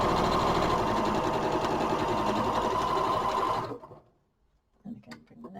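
A sewing machine runs steadily while stitching pairs of fabric patches for a scrappy four-patch quilt block, a loud close whirring hum. It stops abruptly near the end, followed by a few faint clicks and handling noises.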